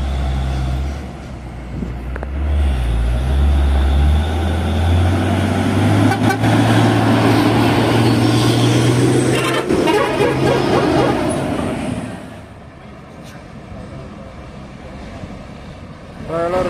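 A Hino trailer truck's engine rumbles loudly nearby on a winding hill road with a deep, steady drone, then fades somewhat toward the end as it moves off.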